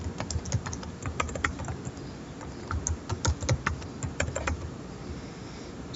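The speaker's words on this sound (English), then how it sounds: "Let me type it again." Keys clatter on a computer keyboard as a password is typed during a software installation, a brisk irregular run of close, crisp taps with brief pauses over low room hum.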